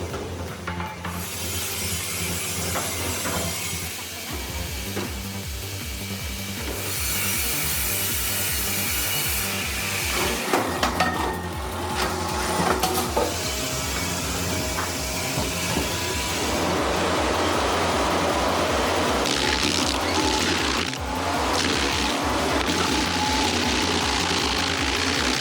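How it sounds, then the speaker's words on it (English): Heavy machine grinding out a tree stump during a timber operation, a loud continuous churning of engine and scraping wood with rough bursts and surges, steady throughout with no talk. "That stump removal was epic."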